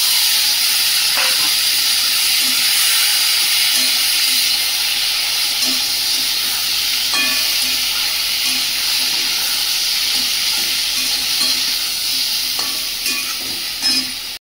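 Spices frying in a pan as boiled potato and banana go in, a steady loud sizzle and hiss running the whole way with a few faint clicks of stirring and no talk.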